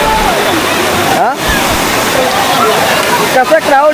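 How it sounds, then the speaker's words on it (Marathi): Vanlaxmi waterfall at Vangani, a loud, constant roar of falling water close by, with people chattering and calling out over it. "खतरनाक पाणी पडतं इथला"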